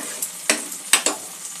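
Onions fry in a pan until softening, a soft steady sizzle punctuated by a few sharp scraping strokes of a spatula, close and fairly quiet, with no talking.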